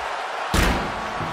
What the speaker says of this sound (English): And the explosion occurring ringside.